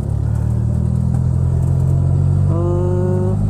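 An older Suzuki Carry Futura engine runs smoothly up close, a steady low rumble with a faint whining tone joining near the end, and no voices.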